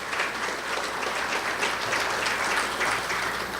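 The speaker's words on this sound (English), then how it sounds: "Could you give them a round of applause?" Audience applause for the organizing committee at the Prime Minister's Gala, a steady, dense clapping from a large indoor crowd that holds at an even loudness throughout.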